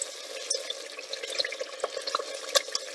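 Maltese pasta soup (toqlija) bubbling on a stovetop while being stirred, soft scraping and wet sloshing clicks, steady and close with a faint hiss underneath.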